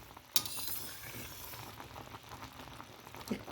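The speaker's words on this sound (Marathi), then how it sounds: "आवळ्याच्या ज्या आपल्या कड्या मोठ्या मोठ्या दिसत होत्या त्या छोट्या होत आहेत, कारण त्या आता शिजल्या जात आहे पाकामध्ये" Amla pieces simmering in jaggery syrup in a pan: a soft, steady bubbling hiss, with a small metallic clink near the start and another faint tap near the end.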